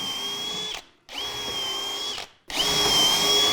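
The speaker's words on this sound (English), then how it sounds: "We have to pre-drill because we're going into the grain, and we don't want the screws delaminating." A power drill pre-drills holes into plywood, whining in three steady bursts of about a second each with short pauses between them, close and clear with nobody speaking.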